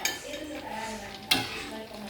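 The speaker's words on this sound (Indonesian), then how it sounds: "Terus tinggal goreng di minyak goreng yang panas." Pelompong crackers fry in hot cooking oil with a soft, steady sizzle, broken by light utensil stirring and a sharp clink of metal against the pan, close up and with no talking.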